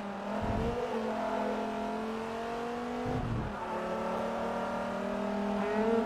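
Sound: car engine revving in Forza Motorsport 3, video game

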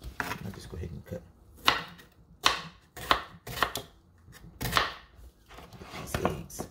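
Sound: knife cutting food on a board

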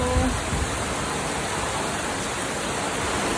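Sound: rain

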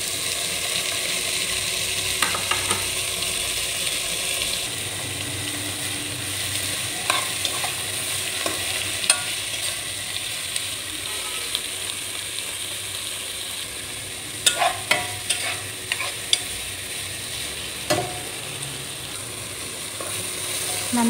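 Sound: tomato and beans sautéing in a pan

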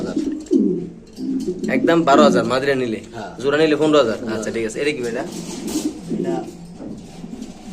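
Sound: pigeons cooing

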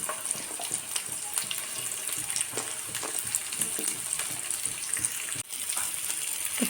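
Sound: onion, tomato, ginger and garlic frying in oil

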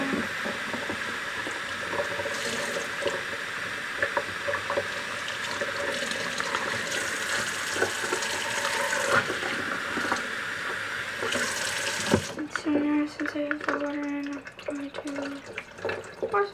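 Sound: tap water running into container

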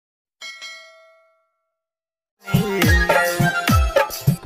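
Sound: bell ding notification sound effect

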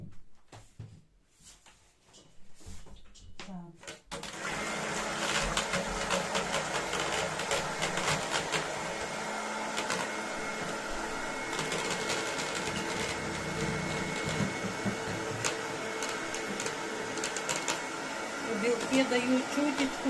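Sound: electric mixer whipping egg whites

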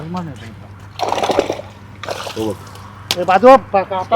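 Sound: water splashing as a fish is pulled out

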